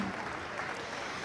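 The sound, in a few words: applause for young people at a steer show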